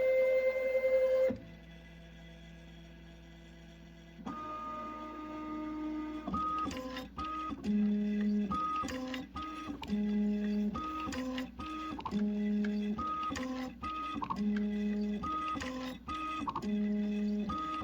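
Matrix Filler Wizard filling machine correcting for a tilted load while filling two disposable packages: a steady mechanical whir with repeated rhythmic motor steps and pulsing tones, printer-like, up close and without talk.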